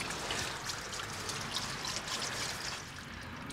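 Thin 15W40 engine oil drains from a Ford backhoe during an oil change, a soft continuous trickle with no talk.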